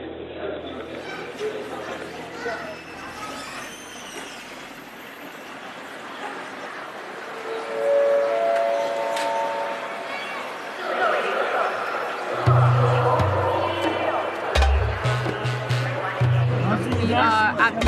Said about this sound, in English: We are at the Urumqi train station, about to try and get out of the city.